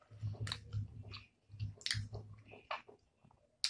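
Fried chicken and macaroni salad are eaten close to the microphone in a mukbang, with soft wet chewing and crunchy bites repeating irregularly and quietly, with no talk.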